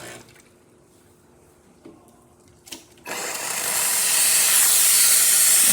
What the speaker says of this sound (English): Excellent flow coming out through the group head.